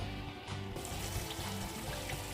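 Bitter gourd gravy simmering in a pot, a steady close bubbling and gurgling with a continuous watery churn throughout.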